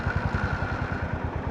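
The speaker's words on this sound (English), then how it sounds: "When I started the motor, I was blown away by the exhaust note." A Honda GB350c motorcycle engine runs close by with a deep, evenly pulsing exhaust thump, steady and loud with no talking.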